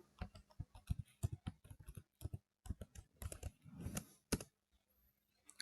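A password being typed on a computer keyboard during a Linux login, a run of quick, close key clicks in uneven bursts with a brief pause midway and a final heavier tap.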